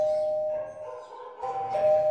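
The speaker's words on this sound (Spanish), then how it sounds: "Creo que están tocando el timbre." Electronic doorbell chiming at a party in a Spanish-language production, two tonal ding-dong rings a moment apart, clear over a low room murmur.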